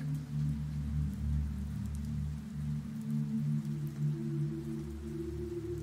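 Soft, continuous rain patter over a low, droning hum like a vehicle engine, steady and unbroken, with no talking.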